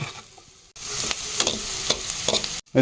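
Onions fry in a pan until golden for a creamy paneer gravy. A steady close sizzle carries on while a spoon scrapes and stirs, with two brief drops to near silence.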